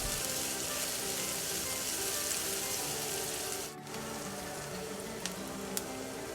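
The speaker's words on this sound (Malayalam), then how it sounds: "അതിലേക്ക് അരമുറി സവാള ചെറുതായി ചോപ്പ് ചെയ്ത് ചേർത്ത് കൊടുക്കുക" Finely chopped onion frying in hot oil in a pan, giving a loud, steady close sizzle that holds throughout with a brief dip partway.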